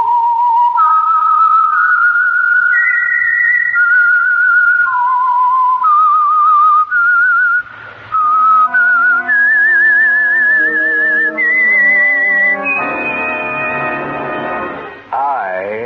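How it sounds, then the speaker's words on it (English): Someone whistles the melodic theme of the Signal Oil radio program The Whistler, clear and loud. Sustained, wavering notes step through a tune, and sustained orchestral chords join in partway through. "the signal to listen for is this whistle that identifies the Signal Oil program"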